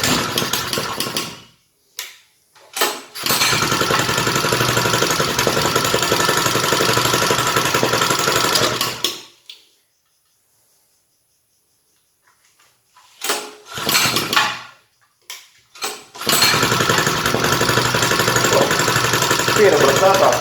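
A new TOTAL TP3101 petrol four-stroke water pump engine runs loud and close in long steady stretches, with sputtering starts and a few seconds of silence where it cuts out before firing up again.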